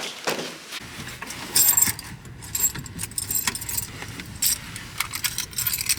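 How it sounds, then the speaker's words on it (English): Car keys jingle and rattle in several brief clinking bursts, close by, over a quiet car interior with faint road rumble. "Keys, guys."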